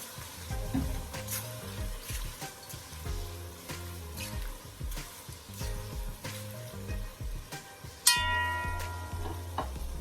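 Chopped peppers sizzle and fry in a pan for Jamaican ackee and saltfish, with steady crackling broken by repeated scrapes and clacks of a spoon stirring, close and fairly loud, with a sharper clatter near the end.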